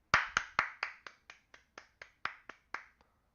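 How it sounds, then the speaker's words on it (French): A single person claps hands alone, about a dozen sharp, evenly spaced claps over a few seconds, close and crisp with clean silence between each, slightly uneven in loudness. "mais j'applaudis"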